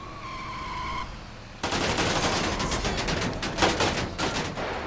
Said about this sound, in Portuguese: Troca de tiro já começou.